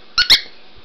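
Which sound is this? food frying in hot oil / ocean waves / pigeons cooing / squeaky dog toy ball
squeaky dog toy ball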